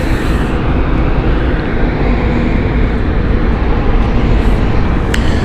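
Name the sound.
Embraer E-Jet aircraft at London City airport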